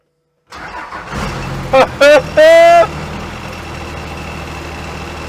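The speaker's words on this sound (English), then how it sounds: "The old Cummins really shakes this steel dash." A Cummins diesel swapped into a Mack A40 truck cranks and fires, settling into a loud, rough, steady idle, with a few brief higher tones cutting through right after it catches.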